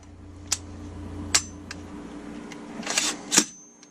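AR-15 rifle function test with a series of sharp metallic trigger and hammer clicks, about five or six crisp snaps at uneven intervals, close and clear over a quiet background.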